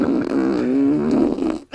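A voice imitating a laser with a buzzing, wobbling, rumbly mouth noise held for under two seconds, close and loud, ending abruptly.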